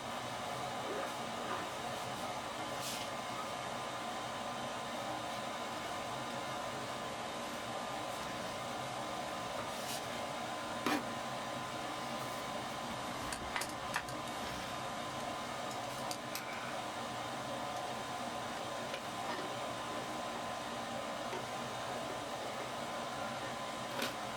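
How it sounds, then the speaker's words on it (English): A home furnace blower running steadily, a faint, even whooshing hum with a few light clicks and ticks scattered over it and no talking. "See now the blower's on."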